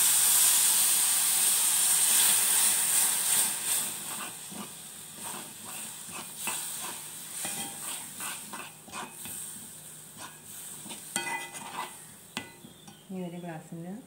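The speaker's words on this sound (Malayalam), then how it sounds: "ഇതിലേക്ക് കുറച്ച് വെള്ളം ഒഴിച്ചെടുക്കാം." Water poured into a hot pan of onion curry brings a loud steamy hiss that fades over several seconds into softer bubbling and the clink of stirring.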